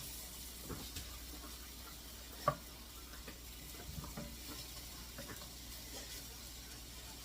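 Ground beef browning over medium heat in a pan for stroganoff, a steady low sizzle with occasional stirring scrapes and one brief clack, heard close and quiet with no voices.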